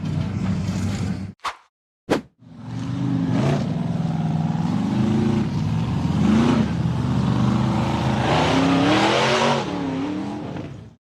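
A steel-frame off-road buggy labours up a steep, rocky dirt slope, its engine roaring steadily and rising in pitch as it climbs, loud and close throughout after a couple of brief sharp bursts near the start.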